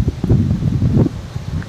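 Wind gusts through the leafy trees of a home garden, making a loud, close rustling rush that swells and fades within a brief moment.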